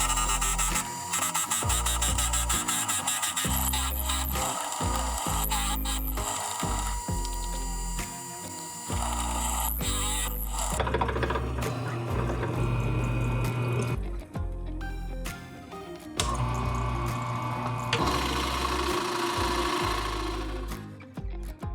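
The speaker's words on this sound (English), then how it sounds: "Then it was time to start hollowing out the inside, starting with a Forstner bit." A Forstner bit hollows out the inside of a wood-turning blank on a lathe, giving a loud continuous grinding and whirring with rough chattering changes in pitch and brief pauses.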